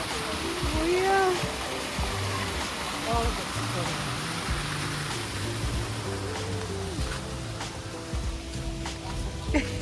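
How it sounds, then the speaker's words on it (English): A waterfall and stream in Auckland, New Zealand pour out a steady broadband rush of water, with people talking over it throughout. "look at the waterfall"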